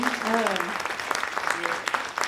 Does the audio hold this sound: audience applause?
yes